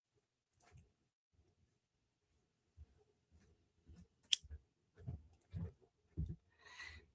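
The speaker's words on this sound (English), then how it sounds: "So I'm going to get my scissors." Quiet, sparse snips and clicks come from scissors cutting open a package, a handful of short separate cuts spread over several seconds in an otherwise silent room.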